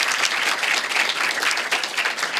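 A round of applause from the audience at an evening talk in a distinguished address series in Bristol, dense and continuous clapping that stays loud and close from start to finish.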